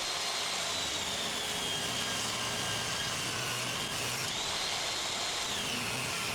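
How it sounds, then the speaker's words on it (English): A table saw rips wooden planks to equal width, a loud, steady, high-pitched blade whine over dense broadband cutting noise, with the pitch dipping briefly partway through as the wood feeds. "On the table saw, rip all the planks to equal width, starting by ripping the untouched edge."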